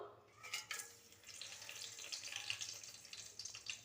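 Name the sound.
whole spices frying in hot oil for chicken biryani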